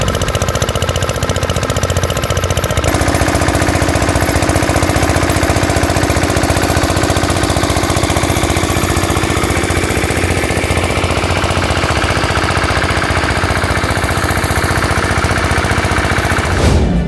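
Water pump engine running beside a pond, a loud, rapid, steady chugging drone with a hard mechanical clatter that continues unbroken throughout.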